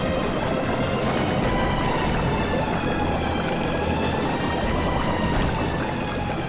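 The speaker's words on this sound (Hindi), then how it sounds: "चल, पानी रुक नहीं रहा है।" In a TV drama sound effect, water floods into a boat as a continuous loud rushing, pouring wash that stays steady from start to finish.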